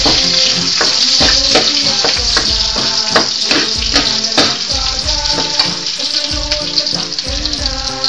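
Chopped onions frying in a pan, a steady loud sizzle running throughout with repeated scraping and stirring knocks at a regular pace, heard close up without speech.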